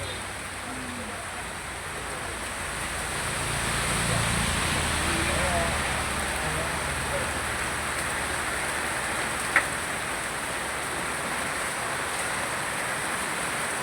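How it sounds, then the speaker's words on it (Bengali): Steady rain hisses across the whole clip, a broad even wash of patter with faint voices now and then underneath. "সকাল থেকে বৃষ্টি শুরু"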